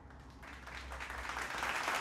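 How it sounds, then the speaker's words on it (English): Audience applause at a Christmas charity concert, a steady wash of many hands clapping that swells slightly louder over the two seconds, heard alone with no voices. "Is that applause after you?"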